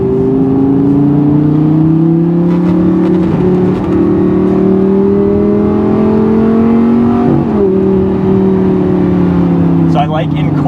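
A Lamborghini in Corsa mode accelerates hard downhill. The engine note climbs steadily and stays loud and close throughout, with brief dips as the transmission shifts quickly.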